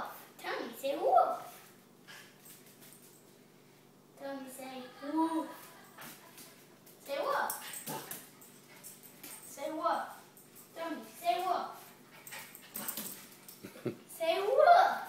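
A pet dog named in a trick-training session gives short whimpers and yips between bursts of a person's coaxing speech, close and moderately loud.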